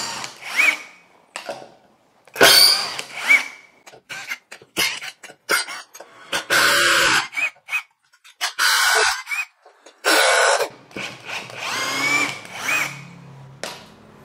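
A Tekiro CD-ID2071 cordless brushless impact driver in normal mode loosens a screw, firing several loud rattling hammering bursts close by, separated by brief pauses and a few coughs.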